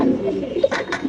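Pigeons, sold as a Pakistani breed at a pigeon farm in Mirpur, Dhaka, coo softly in a brief, close burst with a couple of throaty rising notes.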